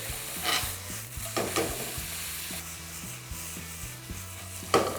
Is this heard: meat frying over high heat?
yes